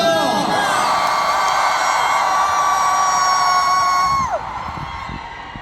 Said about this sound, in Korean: 함성이 너무너무 좋은데 어떤 분이 자꾸 비명을 지르고 계셔서